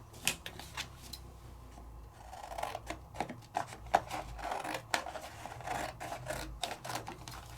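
Scissors snip through non-porous specialty paper in a papercraft session, with repeated crisp cuts and rustling at an irregular rhythm, close and fairly quiet with no talking.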